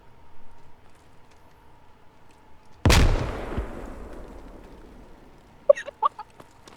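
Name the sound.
frag grenade thrown and exploding, from a video game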